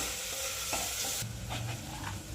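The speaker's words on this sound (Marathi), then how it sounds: "रोजच्या वापरातलं जे तिखट असेल ते आणि लसूण खोबरं. छान परतून घ्यायचं आहे." Garlic, dried coconut and chili powder sauté in a pan, producing a close dense sizzle with scraping stirs, the hiss easing after a moment while spatula strokes continue.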